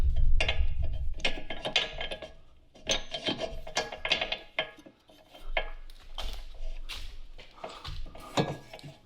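Socket wrench work on the brakes of a 2019 Chevrolet Equinox, with close metallic clicks, scrapes and knocks coming in irregular bursts alongside rubbing and rasping handling noises. No one speaks.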